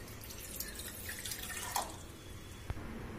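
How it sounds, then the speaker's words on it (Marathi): Water runs and drips into a glass at close range, a steady trickle with a few sharper drops and a brief splash near the end. "आणि एक ग्लास भरून पाणी घ्यायचे आहे"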